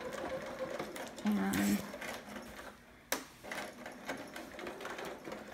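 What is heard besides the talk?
sewing machine back stitching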